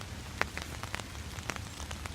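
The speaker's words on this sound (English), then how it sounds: "calm rain" Calm rain falls by a river on a fall morning at low tide, soft steady patter with scattered distinct drops and no talking.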